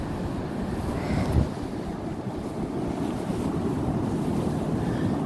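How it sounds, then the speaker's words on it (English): Sea surf washes steadily onto a shore as the tide comes in, with a broad continuous roar, some wind buffeting and one brief louder splash near the start, heard without voices. "the water's coming, the tide's coming in"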